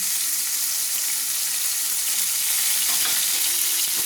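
A paste of cumin, flour and ginger goes into a hot pan of oil after fenugreek seeds, giving a loud, dense, continuous sizzle with faint stirring underneath.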